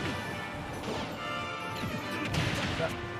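Link's bomb going off in a Super Smash Bros match, a single crashing blast partway through, under continuous excited commentary and game noise.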